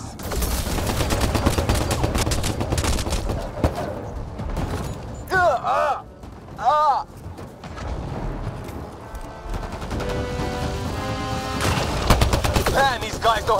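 Gunfire in Mass Effect Andromeda, during a fight against aliens while invading a spaceship: sustained bursts of rapid shots with mechanical clanks and brief alien shrieks, fading and swelling across the clip.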